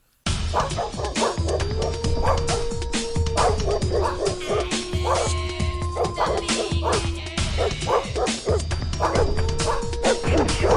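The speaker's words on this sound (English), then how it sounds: "It's just like a dog." A dog barks and yips repeatedly in rapid bursts over a steady background, with music-like tones and some voices mixed in throughout.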